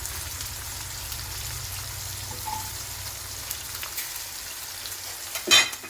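Onion, green chilli, ginger and garlic fry in a pan with a soft, continuous sizzle, fairly quiet, and a brief louder clatter near the end.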